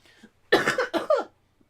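A person nearby gives a few harsh, closely spaced coughs, loud and close, after a faint quiet breath at the start.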